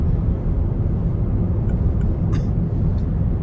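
A car drives south along US 1 through Hobe Sound, Florida, with a steady low road and engine rumble running throughout and no talking.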